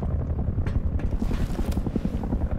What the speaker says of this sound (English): That's the attack chopper, right?